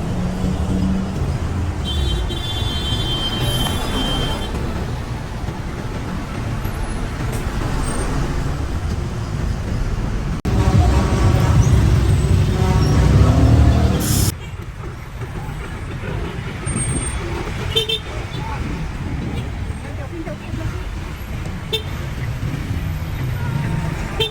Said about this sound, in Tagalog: Traffic talaga dito sa Quiapo pag Sunday.